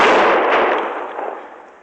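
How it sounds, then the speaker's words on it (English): A single loud gunshot rings out in an old-time radio western drama, cracking sharply and then fading in a long echoing tail. "Somebody was shooting at me, Chester."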